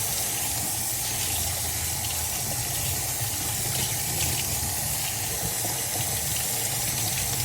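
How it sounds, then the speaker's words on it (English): Cold tap water runs steadily and loudly over fresh homemade butter as it is rinsed to wash out the buttermilk, a close and unbroken rush of water. "We'll rinse it in cold water and squeeze out as much of the buttermilk as we can."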